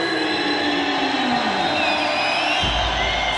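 A crowd cheers and roars at a Muay Thai event as Lebanese fighter Mohamad Ghorabi, an MMA practitioner and fan favourite, walks to the red corner. The noise is loud and sustained throughout.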